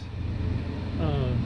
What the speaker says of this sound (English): My 90-year-old neighbor is out cutting his grass.